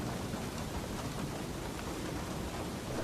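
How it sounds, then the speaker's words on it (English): Rain streaming down lighthouse glass at night, a dense, even hiss of falling water with no breaks, fairly faint and unaccompanied. "Rain streams down the glass."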